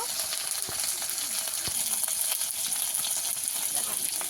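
Spice mixture with tomatoes and turmeric sautéing in a pan, giving a steady close sizzle with a few faint spatula taps, moderately loud and continuous; no voices.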